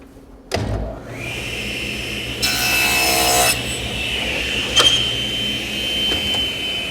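A saw makes a compound miter and bevel cut in a piece of wood: a sharp clunk as it starts, a rising motor whine, a loud one-second burst of blade cutting through, then the motor keeps humming and winds down.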